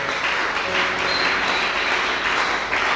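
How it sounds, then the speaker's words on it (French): A church congregation claps and applauds in praise during an Easter service, a steady, dense wash of many hands filling the room without pause for the whole stretch. "Acclamons Jésus."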